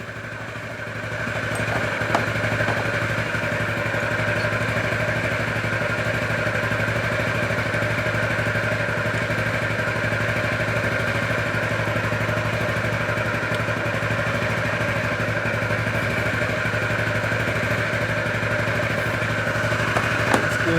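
A faulty moped's small engine idles steadily for about twenty seconds, a loud, even buzzing drone with light mechanical clatter and no talk over it.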